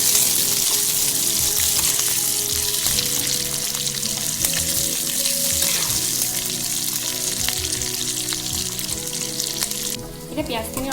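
Onion and green chilli sizzle steadily in hot oil in a home kitchen, a dense, close, continuous frying hiss with small crackles that softens slightly near the end.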